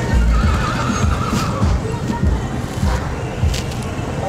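Horses at a Punjabi horse fair in Muktsar give a loud neigh near the start, with hoof clops and crowd murmur around them and wind buffeting the microphone.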